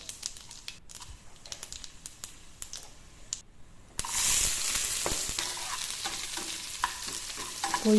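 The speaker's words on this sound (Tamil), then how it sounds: "ஒரு கடாய் வச்சு அதில் எண்ணெயை ஊற்றி கடுகு உளுந்து காஞ்ச மிளகா வெங்காயம் போட்டு நல்லா தாளித்து" Mustard seeds, urad dal, dried chilli and onion frying in hot oil in a kadai for a Sri Lankan tempering, a quiet scrape and stir first, then a loud steady sizzle that jumps up halfway and keeps crackling with small pops.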